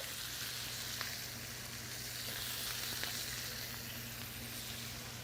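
Steady, continuous sizzling and crackling of vegetables stir-frying in a hot wok with little oil, with a low hum beneath and occasional small pops, no talking.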